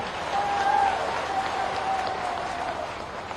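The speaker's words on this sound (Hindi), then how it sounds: "तालियों की गड़गड़ाहट से।" A large outdoor rally crowd in Hatpipliya, Madhya Pradesh, breaks into sustained, thunderous applause, a steady roar of many hands clapping at a distance, with a faint tonal whine over it.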